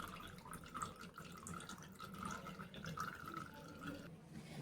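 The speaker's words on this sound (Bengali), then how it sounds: "এটা হাত দিয়ে এইভাবে চেপে চেপে ছানার মধ্যে যতটা জল আছে এইভাবে নিংড়ে নেব" Fresh chhana (cottage cheese) for homemade Chitrakoot sweets is squeezed by hand to press out its water, giving a steady close trickle and drip of liquid throughout, with no talking.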